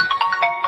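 Incoming-call phone ringtone with a repeating, bright electronic melody of short tonal notes, fairly loud and steady across the brief span, no talk over it.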